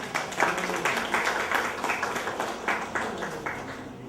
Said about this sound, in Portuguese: Vamos aplaudir, meu amigo.